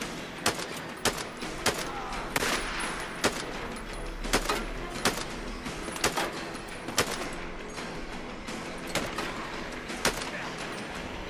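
Gunfire in the video game Days Gone: repeated sharp shots crack at irregular intervals, roughly a dozen over several seconds, over a busy game soundscape.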